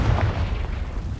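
A Confringo fire spell explodes in the video game Hogwarts Legacy, a loud, continuous low boom that rumbles steadily through the short moment with no voices over it.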